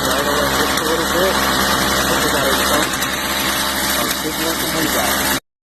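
A Stihl FS 55 RC string trimmer's small two-stroke engine idles after a carburetor adjustment, with a loud, steady, close buzzing drone that holds evenly for over five seconds before cutting off.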